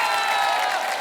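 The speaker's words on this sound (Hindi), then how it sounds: "जोरदार तालियां।" Audience applause on a TV comedy show set, a dense steady roar of clapping that fills a brief moment at full loudness.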